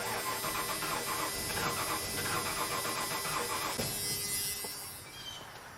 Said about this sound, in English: All right, now we're going to crank it.